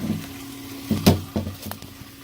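Water trickles and splashes at a garden pond skimmer in winter, the pond frozen over but still circulating; brief gurgling bursts come close by over a low steady hum.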